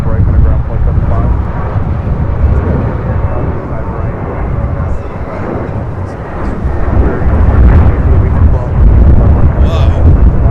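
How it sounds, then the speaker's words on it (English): A JetBlue Airbus A321 takes off for Miami, and its jet engines make a loud, deep, sustained roar that swells toward the end, heard close by. "This is Fly Like You Meant It taking off to Miami, Florida on this A321 with JetBlue Airways"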